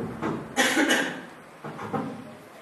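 Two separate coughs during a lecture, into a microphone, the first a loud double hack and the second a softer double cough a second later, with no talking.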